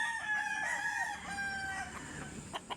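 A rooster crows loudly and close by in one long drawn-out call, followed by a few softer clucks.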